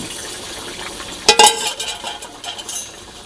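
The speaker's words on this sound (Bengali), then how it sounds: "আমি এবার এগুলো দিয়ে দেবো, ডিম ভাজাগুলো এর সাথে দিয়ে দেবো।" Fried fish roe tipped into a pan of simmering potato curry, a brief clatter and clink of utensil on pan over a soft background bubbling, then gentle stirring.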